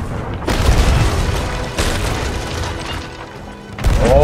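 Ship cannons firing in a pirate-ship naval battle video game, heard as three loud booming blasts spread across a few seconds, each with a rumbling tail, close and dominant with no talk over them.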